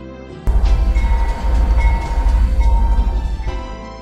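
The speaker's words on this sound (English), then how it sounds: "The train was still stopped at the platform, its doors eager to close as if impatient from waiting." A train stopped at a station platform in a visual novel scene: loud, rumbling railway noise that swells abruptly and rolls on with rhythmic pulsing, mixed with tonal layers.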